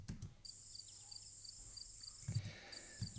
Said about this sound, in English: I just wanted some crickets in there.